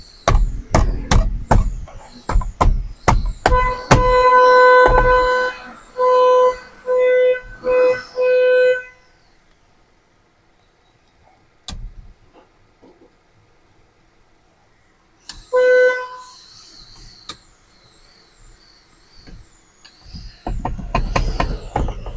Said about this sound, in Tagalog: Kaya dire-diretso yung busina.